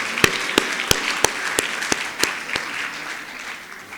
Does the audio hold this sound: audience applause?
yes